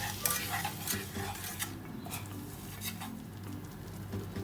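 Plain flour being stirred into a pan for a baked mac and cheese sauce, with soft repeated scraping and light utensil clinks over a faint sizzle.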